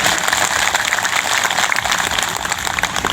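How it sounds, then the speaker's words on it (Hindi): A crowd at an outdoor Adivasi religious gathering bursts into applause for a seated guest, loud, continuous clapping that fills the whole moment without letup or speech. "इनके लिए ताली बजा दीजिए"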